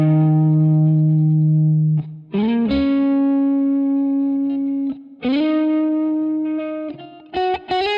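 Electric guitar played by Solar Winter 1.6, with a BOSS NS-1X noise gate on: long sustained, effects-laden notes with slides and bends, loud and close, cutting to near silence between phrases as the gate closes.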